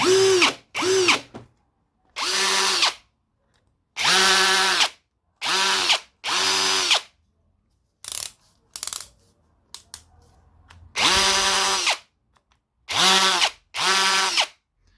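A Parkside PPAGHS 20 LI A1 cordless hammer drill in hammer mode rattles in repeated short bursts, each a second or so, separated by silence, with a few faint clicks between runs.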